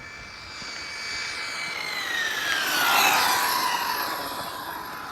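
An Arrma Mojave RC car's motor accelerating hard, a whining tone sweeping upward and swelling louder toward the middle before easing slightly, heard alone against broad rushing noise.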